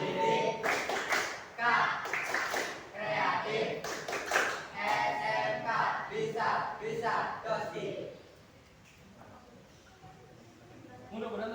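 Rhythmic group clapping chant, the Tepuk SMK cheer, performed by a class at a vocational high school, with loud patterned claps in bursts and voices mixed in, fading to quieter room noise near the end.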